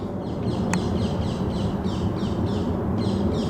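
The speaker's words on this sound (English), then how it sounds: "There you go, the parakeets." Harsh, repeated squawks from a flock of parakeets in a garden ring out in a rapid rhythm over a loud, constant rumbling background.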